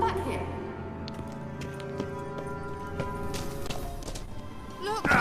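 Kelpie, Geralt's horse in the video game The Witcher 3, trots with rhythmic hoof clip-clops over a layer of sustained game music, then gives a short snort or whinny at the end while speech overlaps.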